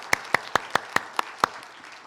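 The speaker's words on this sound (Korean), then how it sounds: "우리 한번 큰 박수로 환영하고 또 격려해 주겠습니다" Applause from a church congregation at a Sunday joint worship service, welcoming a youth-group member up to give testimony: seven sharp, evenly spaced claps ring out in a quick, loud burst and then stop, leaving quiet room tone.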